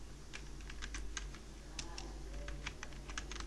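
Typing on a computer keyboard while writing HTML code: quick, irregular key clicks close by, running over a steady low electrical hum.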